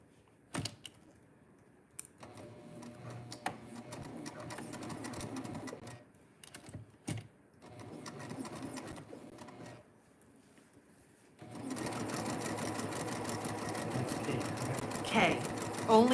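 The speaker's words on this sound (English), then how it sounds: "put it in the machine and top stitch." Sewing machine top-stitching across a fabric pleat, running in a steady loud burst near the end after quieter stretches of handling noise and talk.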